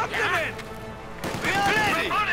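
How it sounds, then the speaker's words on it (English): Heavy 120mm mortar firing in the Company of Heroes 2 game, two sharp booming blasts about a second apart, each with a ringing whistling tail, under a commentator talking. "the 120mm mortar firing away"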